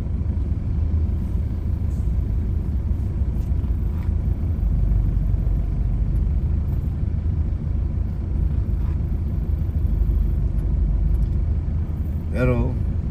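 A car drives slowly through dense, close-packed road traffic in Dagupan City, a loud continuous low engine and road rumble throughout, with a brief voice near the end.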